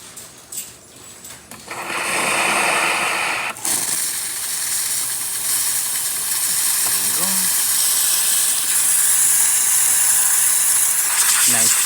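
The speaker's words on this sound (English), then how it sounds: "So we're gonna see steam coming out through here instead of here." Steam hisses loudly and steadily from the wand of a Saeco Celsius espresso machine with a thermal block, starting after a few seconds of mechanical clicks and continuing for most of the clip, close and strong.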